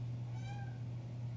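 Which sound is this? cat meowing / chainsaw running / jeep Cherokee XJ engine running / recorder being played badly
cat meowing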